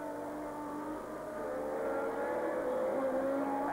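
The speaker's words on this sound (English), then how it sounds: "And they accelerate away, up from 3rd to 4th to 5th." Formula One cars at the 1979 Canadian Grand Prix accelerating away, their engines rising in pitch together in a sustained distant whine through the gears, with no commentary over them.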